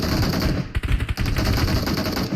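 Rapid bursts of automatic gunfire in the mobile battle royale game PUBG Mobile, loud and close, forming a quick rattling string of shots over a dense game background.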